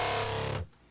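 A loud, heavily distorted dubstep bass synth in a melodic dubstep drop roars with a gritty, saturated buzz, then cuts off abruptly, leaving a quieter tail.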